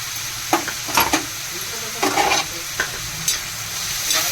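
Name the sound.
stirring masala with tomato frying in pan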